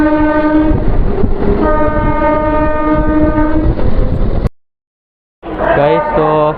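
A train at Bandel railway station on the Helencha to Burdwan line sounds a loud, sustained horn close by over rumbling wheels. A brief silence follows, then another blaring horn blast.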